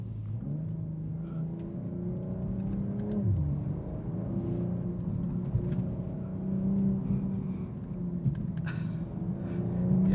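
A BMW M240i xDrive coupe in Sport Plus mode pulls hard under acceleration, its engine note rising steadily through the gears with a brief dip at a shift, loud and continuous throughout.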